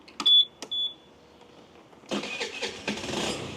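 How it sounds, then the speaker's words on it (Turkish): A 50cc motorcycle engine being started for a valve-clearance fault check: a few sharp starter clicks and chirps, then the small engine catches on the first try and runs with a buzzy, uneven idle close by. "Motorumuzu çalıştırıyorum"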